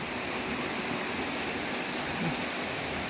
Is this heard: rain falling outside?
yes